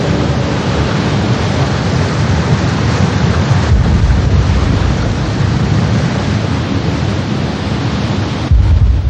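Fourteen-to-fifteen-metre tsunami waves flooding the Fukushima nuclear plant, a loud continuous roar of rushing water and wind-like surge with a brief sharp burst near the end, no voices.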